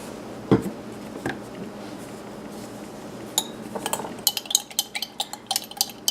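Small spoon scraping and clinking against a container while a DIY vitamin C serum mixture is stirred, with scattered taps early on, then a quick, bright run of clinks toward the end, close and fairly quiet, with no speech.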